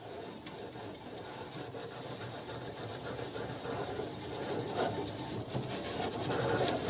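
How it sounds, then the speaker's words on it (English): A gilded metal grid on a piece of furniture is rubbed and polished by hand, giving a continuous close scratchy rasping that grows slightly louder toward the end. "You should polish it very, very well."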